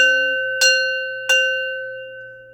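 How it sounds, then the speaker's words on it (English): A handbell rings clearly with a sustained metallic tone, then is struck twice more, each strike bright and decaying slowly into quiet. "I'm gonna go ahead and ring my bell to close out the energy in this reading."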